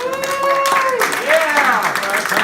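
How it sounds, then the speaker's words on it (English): An audience claps for speaker Tyler Cauvel at an RSA presentation on social media and marketing. Brief applause sits under loud whooping and shouted voices that dominate the short burst. "please give Tyler a round of applause"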